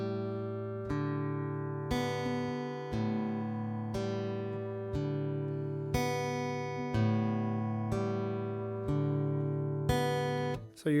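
Fingerstyle acoustic guitar playing a four-string alternate picking exercise, a steady pattern of plucked notes across strings with ringing sustain, about one pluck per second, close and clear with no voice.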